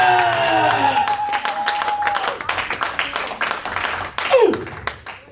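A church congregation bursts into applause, a dense patter of many hands clapping, while a voice sings or speaks over the start and a raised shout breaks through near the end.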